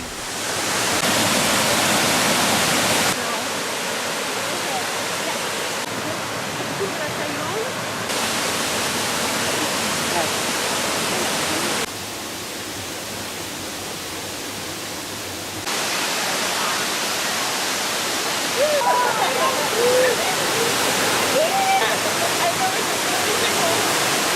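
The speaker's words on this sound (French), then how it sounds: "la cascade d'Erawan" The Erawan waterfall in Thailand rushes as a steady broadband roar of falling water, loud and continuous with abrupt shifts in level, and no voices on top.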